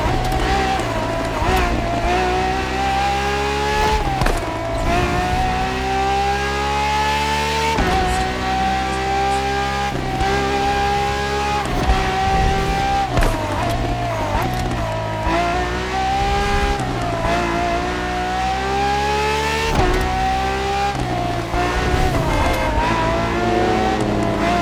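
A Ferrari FXX K racing in The Crew Motorfest, its engine screaming up through the gears in repeated rising sweeps with brief dips at each shift, loud and close throughout, with occasional tire noise.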